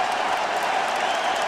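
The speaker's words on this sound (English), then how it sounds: "And Dante getting a standing ovation." A crowd at an NBA game between the Portland Trail Blazers and Miami Heat gives a standing ovation, a steady wash of arena applause and cheering that holds throughout.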